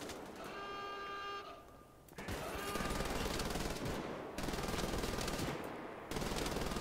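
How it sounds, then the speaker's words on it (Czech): Heavy machine gun in the video game Wolfenstein: The Old Blood firing in long, rapid sustained bursts, loud and close, with brief gaps between volleys. "Tady je velký kulomet."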